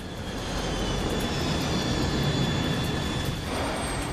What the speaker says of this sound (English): Now the plane is dropping too quickly.